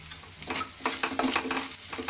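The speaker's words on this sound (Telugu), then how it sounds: "ఇప్పుడు కొద్దిసేపు ఆ అల్లం వెల్లుల్లి పేస్ట్ పచ్చిదనం పోయే వరకు ఫ్రై చేసుకుందాం." Ginger garlic paste frying in a pan for a spinach curry gives a close, soft sizzle broken by light scraping stir strokes, with no talking.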